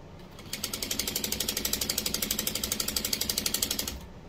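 A sewing machine stitching quilt strips together, a close, rapid, evenly spaced mechanical clatter of needle strokes that starts abruptly, runs steadily for several seconds and stops, with no talk.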